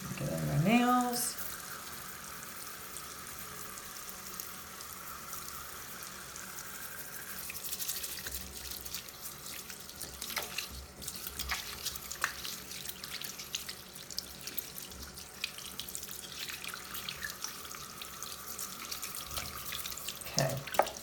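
A lab sink faucet runs steadily as hands are washed and scrubbed, a continuous moderate hiss of flowing water with a few small splashes and drips, no talking over it.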